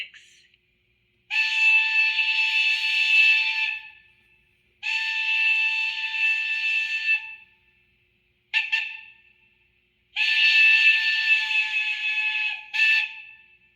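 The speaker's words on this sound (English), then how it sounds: "Trench whistle 6." Several loud, sustained blasts from a steam locomotive trench whistle on an On30 model train, a few seconds each, separated by silence, plus a couple of short toots; shrill and piercing.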